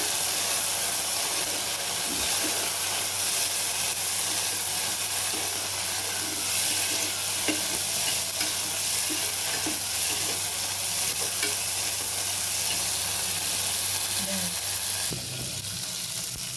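A steady, loud sizzle of cowpeas frying in hot oil, with occasional soft stirring clatter and a continuous hissing wash throughout.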